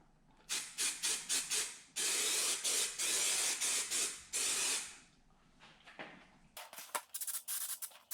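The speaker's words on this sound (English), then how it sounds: "I'm going to go ahead and spray" Spray adhesive hisses from a can in a series of short bursts, then longer sustained sprays, loud and close, with a pause before a final quick run of spurts, coating a 1966 Corvette C2 dash pad.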